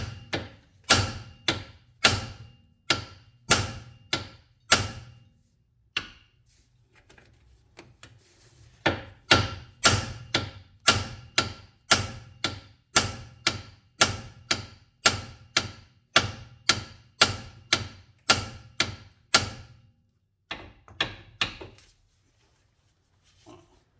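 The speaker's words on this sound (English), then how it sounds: "Got a bigger hammer" A big hammer strikes a 2007 Hyundai Santa Fe's ball joint and tie rod in a long series of sharp, loud metallic blows at a steady rhythm, briefly pausing midway and near the end.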